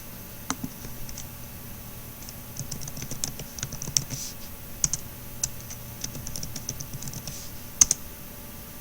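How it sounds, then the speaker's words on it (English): Steady typing on a computer keyboard during a quiz game, a rapid run of light clicks and taps over faint background hiss, with a few sharper keystrokes standing out. "you have to type in the term before it reaches the end"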